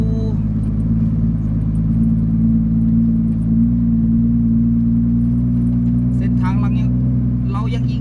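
A slow, fully loaded rice truck crawls along an unpaved dirt road toward a rice mill, its engine a steady low drone close by with little throttle, ending with faint rattles.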